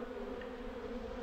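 A cluster of honeybees gathered at the top of a hive gives off a steady, close, continuous hum with a low drone, and no voices are heard over it.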